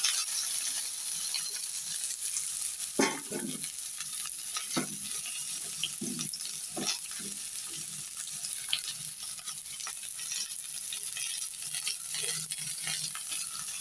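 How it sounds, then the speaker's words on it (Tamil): Chopped onion, garlic and green chili sautéing in a pan, a soft continuous sizzle broken by scattered spatula scrapes and clinks, fairly quiet and close, with no talking. "இதை நல்லா நம்ம வதக்கிக்கணும் நல்லா வெங்காயம் வதங்கி ஒரு நல்ல ஒரு வாசனை வரும்"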